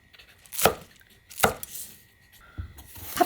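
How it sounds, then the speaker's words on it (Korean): Knife chopping vegetables on a cutting board while preparing a cucumber dish, with three distinct sharp chops spaced apart and quiet kitchen sounds between them, no talking. "같은 크기로 썰면 돼요. 오이하고 같은 길이로."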